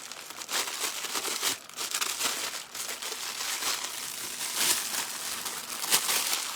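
Purple wreath material is cut and handled, giving a continuous, soft crinkling and rustling with small irregular bursts, close and fairly quiet, with no voices.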